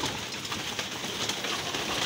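Racing pigeons in a loft crowding in to be fed, a dense continuous flutter and scuffle of wings and feet with faint cooing, steady and close, no speech.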